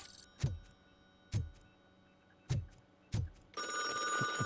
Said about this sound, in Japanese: 電話鳴ってる。